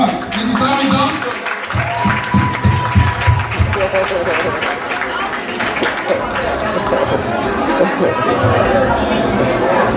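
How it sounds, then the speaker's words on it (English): A crowd at a wedding celebration claps in a round of applause for a wife, loud and sustained throughout, mixed with chatter and crowd babble. "Let us give her a round of applause."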